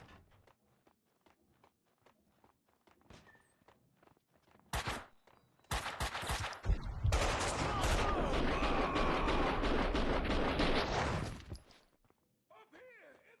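Gunfire in the video game Max Payne 2, set in an attic: a couple of loud isolated shots, then a dense, sustained barrage of rapid firing lasting several seconds before cutting off, with quieter footsteps and game sounds around it.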